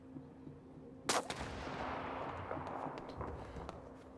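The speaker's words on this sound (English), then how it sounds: "as soon as you hear a shot, run" A single sharp gunshot cracks in the video game This War of Mine, followed by a long rumbling decay and faint scattered pops under steady low ambience, moderately distant.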